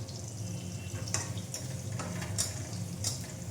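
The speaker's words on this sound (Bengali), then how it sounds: "এই যে উচ্ছে ভাজছি কিছুটা," Bitter gourd frying in a pan, a quiet steady sizzle of hot oil with a few light clinks and scrapes as the pieces are stirred.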